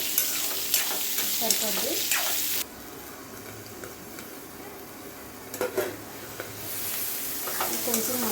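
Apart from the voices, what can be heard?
frying cucumber pieces in pan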